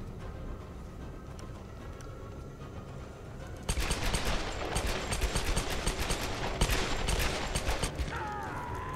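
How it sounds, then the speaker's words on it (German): Gunfire in Tomb Raider: after a stretch of low ambient rumble, loud rapid shots break out in dense overlapping bursts that continue almost to the end. "Ich hab einfach geschossen"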